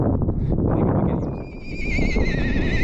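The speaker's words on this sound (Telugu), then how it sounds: "ఒక గుర్రం అరిసింది, తర్వాత ఈ గుర్రాలన్నీ మళ్ళీ అరుస్తున్నాయి వెనకతల." A horse lets out a long, wavering whinny over a rumbling, noisy background in Sonmarg, Kashmir, the neigh rising clearly in the second half, with other horses calling behind.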